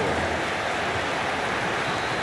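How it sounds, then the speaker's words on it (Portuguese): A steady, loud stadium crowd roar fills a FIFA 23 football match in career mode with Santos in Serie A. It is a dense, unbroken wash of crowd noise with no distinct voices. "A torcida faz barulho."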